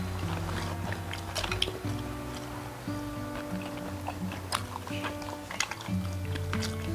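A couple eats in a Chuseok holiday mukbang, with close, soft wet chewing, biting and small squishy mouth sounds of sweet fruit, repeating steadily at a low level.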